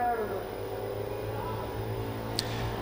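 Pop Cross off-road race cars lap a track at a Mação race meeting, their engines a steady, distant drone with a faint rising whine and a brief sharp click near the end.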